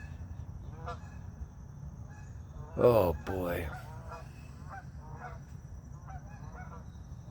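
Geese flying overhead honk loudly a few times in a brief burst over steady low background rumble, and a voice speaks briefly.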